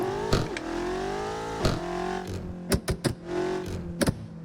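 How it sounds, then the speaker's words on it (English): A car engine in a No Hesi driving game revs repeatedly through low gears, each rise in pitch cut by sharp clicks and shifts, heard clearly with no talk. "I want to actually hear the car"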